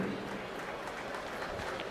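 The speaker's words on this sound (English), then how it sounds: "Let's have a round of applause for our class 11 exhibitors" Applause from the audience at a county youth fair swine show for the class exhibitors, a steady, fairly faint wash of clapping with no voices, lasting about two seconds.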